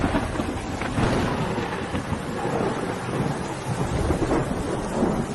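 Heavy rain pours steadily with deep rolling thunder rumbling throughout, a dense loud storm filling the whole stretch with no voices.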